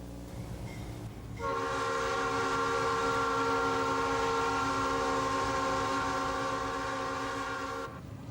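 An Amtrak Gulf Coast Limited passenger train on the Mobile to New Orleans run sounds a long, loud, steady multi-tone horn blast of about six seconds, rising above rumbling rail noise and cutting off sharply.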